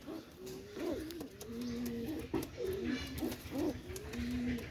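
Teddy pigeons coo in a repeated series of soft, rolling calls, close by and fairly quiet, with a low background hum and occasional clicks.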